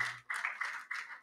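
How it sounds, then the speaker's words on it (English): A few sharp claps in an uneven rhythm from an audience at a Social Business Day conference as panelists are called to the stage, brief and fairly faint. "I would like now to call all the panelists of the sports session and another round of applause"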